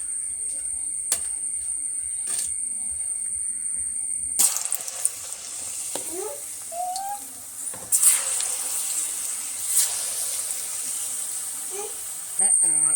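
Sliced ripe banana frying in hot oil for chips. After a quieter start, a loud, broad, continuous sizzle begins and holds steady, with faint voices and kitchen noises in the background.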